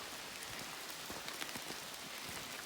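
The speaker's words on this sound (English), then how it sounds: "Even though it's been raining" Steady rain patters on surfaces along a wooded trail at Lake Lurleen State Park in October, a dense continuous hiss with scattered close drops, heard alone with no talk.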